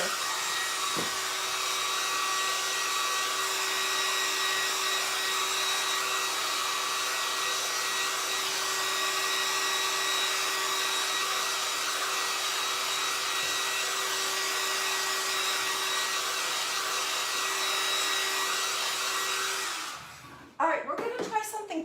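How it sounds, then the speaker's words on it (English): Small embossing heat gun blowing steadily at close range for about twenty seconds, an even whirring hiss with a faint tonal whine, then cutting off near the end into a few handling knocks. "I'm going to get my little embossing gun and just hit it for just a second"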